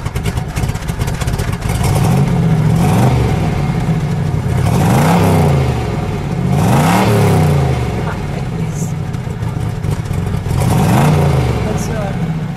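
A 1970 Dodge Challenger T/A with a 340 Six Pak V8 and four-speed is revved up close: four throaty rises and falls climb over a loud, lumpy idle.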